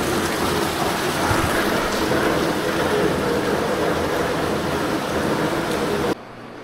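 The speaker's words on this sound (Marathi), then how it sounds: "पाऊस येतोय मोठा." Heavy rain pours down steadily in a village, a dense, loud, even hiss that continues without a break before cutting off abruptly near the end.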